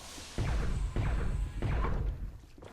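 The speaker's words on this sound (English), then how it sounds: "Stun baton hit." Three heavy thuds from a stun baton striking in the space station game Space Station 14, evenly spaced about half a second apart, each a loud low impact with a short swishy tail.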